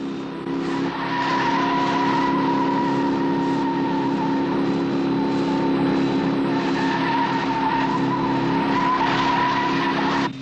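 A car skids with its tyres squealing during a chase in a Thunderbirds episode, a loud, continuous screech that holds for about ten seconds without a break.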